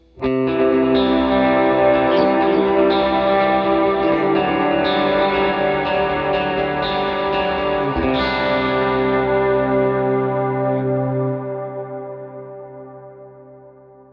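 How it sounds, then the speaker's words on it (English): An electric guitar run through an HX Stomp with stereo delay and reverb set to a high mix, sustained chiming chords with repeating echoes that ring out loudly, then decay into a long fading reverb tail. "if you throw on a delay and a reverb and the mix is pretty high, you can get some pretty good stereo reverb sounds"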